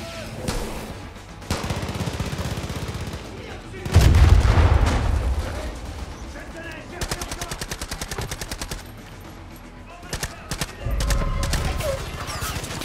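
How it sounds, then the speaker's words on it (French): Far Cry 5 gunfire crackles in bursts of rapid automatic shots and scattered single cracks, with a heavy booming blast in the middle and distant rattling volleys later, loud and close at times, under occasional talk. "Je sais pas sur quoi il tire."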